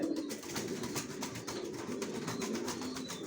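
Soft, low cooing of a male racing pigeon repeats steadily beneath a busy, noisy background, faint and somewhat distant.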